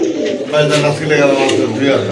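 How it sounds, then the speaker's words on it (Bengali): A pair of pigeons coos at a pigeon market stall, low rolling calls close by, mixed in with loud nearby voices talking over them. "মাশাআল্লাহ সুন্দর একটা কবুতরের জোড়া"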